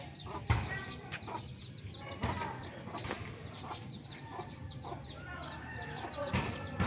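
Hens cluck steadily in a busy flock, with overlapping calls and scattered wing flaps close by; a voice speaks briefly under the clucking.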